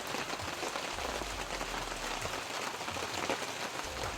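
Steady rain falling outdoors, a dense continuous hiss of drops on surfaces with no clear breaks, moderately loud and alone throughout.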